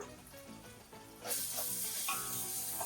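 Marinated chicken drops into a hot pan with tomatoes, and a quiet cooking bed suddenly bursts into a loud, bright, sustained sizzle that carries on to the end.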